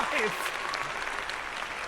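Brief burst of clapping and cheering from a crowd, strongest at the start and fading slightly, with a few voices mixed in; applause in Detroit: Become Human.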